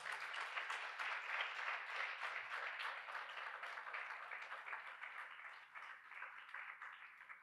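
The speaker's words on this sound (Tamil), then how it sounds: "என்னுடன் இவ்வளோ நேரம் இசைத்த அனைத்து கலைஞர்களுக்கும் உங்களுடைய கரகோஷம்." Audience applause for the musicians at a stage concert, a steady wash of many hands clapping that stays fairly even throughout, moderately distant and without talk over it.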